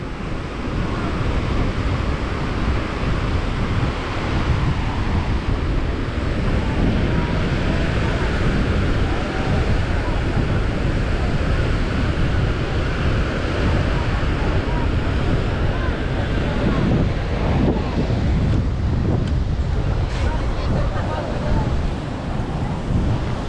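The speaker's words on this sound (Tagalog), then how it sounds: "Lakas kasi ng alon." Strong ocean waves and gusting wind at sea near a fishing boat, a dense, continuous roar of surf and wind buffeting the microphone throughout, with faint voices underneath.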